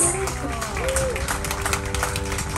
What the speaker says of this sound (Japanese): 最後はとっておき、今日一番の拍手を揃えて